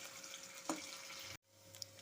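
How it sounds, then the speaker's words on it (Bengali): Potato pieces frying in hot mustard oil, a soft steady sizzle with a brief stir partway, then the hiss drops and settles back quieter. "আলুগুলোকে আমি হালকা লাল লাল করে একটু ভেজে নেব।"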